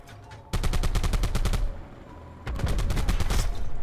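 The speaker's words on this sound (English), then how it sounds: "Gun sounds really nice though." Rapid automatic M16 fire in a video game, two loud bursts of evenly spaced sharp shots separated by a short pause, close and dominant with no talking.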